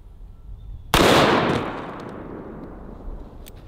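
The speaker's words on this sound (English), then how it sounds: "It literally sounds like a bomb going off when the bullet impacts the body armor." A single loud gunshot as a bullet strikes cheap homemade body armor, a sharp boom-like blast that decays over about half a second, followed by quiet outdoor ambience.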